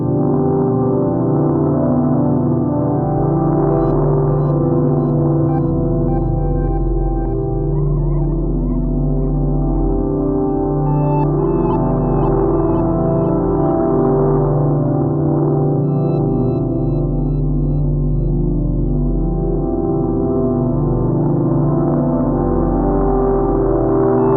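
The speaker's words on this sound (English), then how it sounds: "I'll be sending that arpeggio through the Dark Star for some muddy reverb and drive." A droning synthesizer arpeggio runs through a Dark Star reverb and drive pedal, washing through heavy reverb and grit, thick sustained tones swelling and blurring together loudly for the whole stretch.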